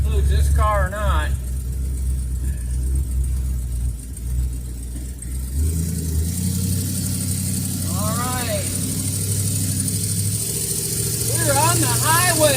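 An old Ford Fairlane, rescued after 35 years in a field, drives on the highway with a steady loud engine drone and road rumble that shifts in pitch midway, as someone talks over it throughout.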